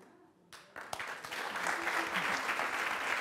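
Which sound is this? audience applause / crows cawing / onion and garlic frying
audience applause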